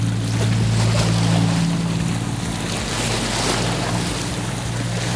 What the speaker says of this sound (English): Some big waves coming.